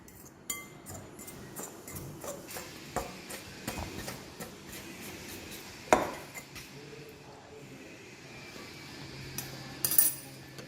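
A fork clinks and scrapes against a bowl while mixing soft dough with milk: scattered light metallic taps and clicks, irregular and fairly quiet, one sharper clink standing out, no voices.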